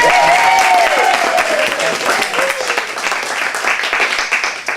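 A community storytelling gathering's audience breaks into loud, close applause, a dense burst of clapping that stays strong for several seconds before gradually tapering, with a faint voice briefly audible in the background.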